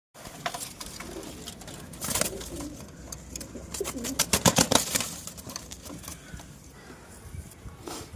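Pigeons, including racing pigeon squabs, coo softly close by, mixed with bursts of rattling and fluttering clatter in the middle.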